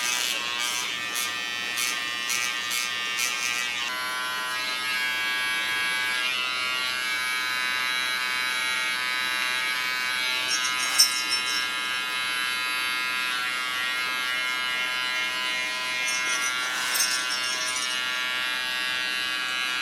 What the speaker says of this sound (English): Go to my nice sharp